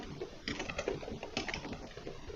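Keys clatter on a computer keyboard with the microphone just above it, a fast, uneven run of close, crisp taps with small bursts of quicker strokes.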